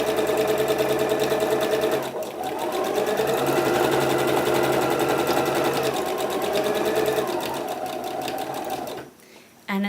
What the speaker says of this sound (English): it may also give you the option to pop in a stay stitch like my machine